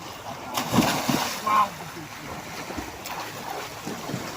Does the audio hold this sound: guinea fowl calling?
no